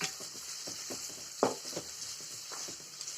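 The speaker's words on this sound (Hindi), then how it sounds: "सौटे कर लेंगे प्याज के साथ गाजर को भी।" Chopped onion and cubed carrot sizzle steadily in a pan over a medium gas flame, with soft stirring clicks and scrapes scattered through the constant frying hiss.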